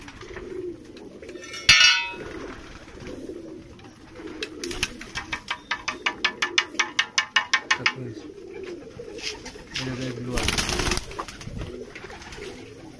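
Pigeons coo softly in the background while a burst of rapid fluttering wingbeats rises and fades, with a few clinks and knocks nearby.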